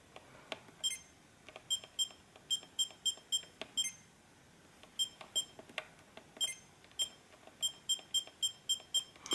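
A Sony Mavica FD71 digital camera gives short, high electronic beeps in quick clusters of several tones, repeated in bursts with brief pauses, close and clear over a quiet background.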